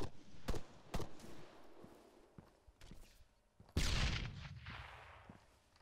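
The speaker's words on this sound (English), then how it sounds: "Couple of grenades going out." Gunfire and grenade blasts in ArmA 3: scattered sharp rifle shots crack at irregular intervals, then a loud, close explosion lands near the four-second mark and rumbles away, with quieter distant pops around it.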